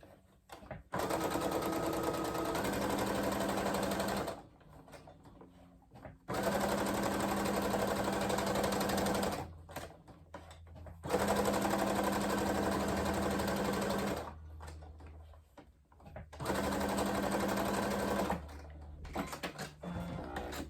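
A sewing machine runs tight 2.5-length stitches across a fabric corner bookmark, loud and close in four long bursts separated by short pauses.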